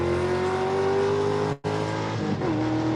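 A race car at the Tire Rack One Lap of America in Nashville lifts briefly through a corner, engine note cutting out for an instant, then returns to full throttle with a strong steady tone, close and loud.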